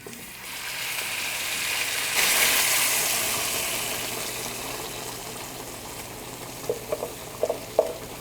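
Red chili sauce for pork ribs sizzles and bubbles steadily in a pot over medium-low heat, swelling after a pour, with a few light clinks near the end.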